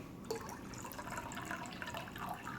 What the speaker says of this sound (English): Pouring in some acid water.